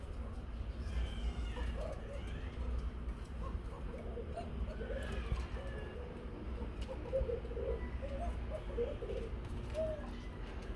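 Pigeons coo at a pigeon-breeding farm, a steady low murmur of overlapping coos under constant background noise, with a few clearer calls standing out.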